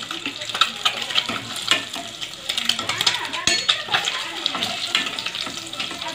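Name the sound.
boiled eggs frying in a pan until brown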